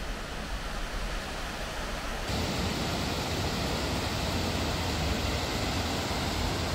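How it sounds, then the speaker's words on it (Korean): Shiraito Falls waterfall in Shizuoka, Japan, a steady broadband rush of falling water heard up close, continuous and loud throughout with no talk. "먼저 시라이토 폭포를 보러 갔어요."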